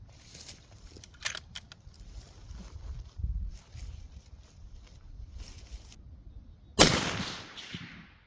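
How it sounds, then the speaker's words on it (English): A rifle fitted with an American Precision Arms Little Bastard muzzle brake fires a single loud, sharp shot near the end, followed by a brief decaying echo, after quiet handling noises and faint rustling outdoors. "Let's go ahead, shoot the round, see if we have any change in point of impact"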